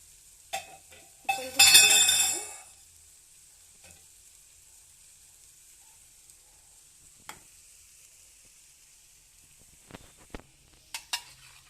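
Paneer fries in a pan for Punjabi paneer masala gravy, giving a loud sizzling burst that fades within about a second. Sparse, faint utensil clinks and taps follow in near silence.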